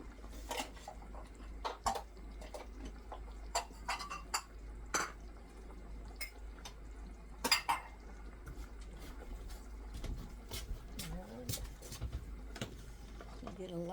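Dishes and a bowl clink and rattle in a home kitchen while potato soup is being served, with scattered sharp knocks of crockery and cutlery, some faint liquid sounds, and light background hum.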